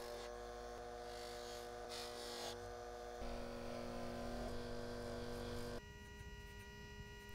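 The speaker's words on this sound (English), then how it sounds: "The 10-karat gold-filled case is going to get a light polishing on my small buffer using a medium and fine compound and soft cotton buffs." A small bench buffer with soft cotton buffs and medium and fine compound polishes a 10-karat gold-filled watch case, giving a steady electric hum and whine that shifts in pitch as the case is pressed on and lifted off.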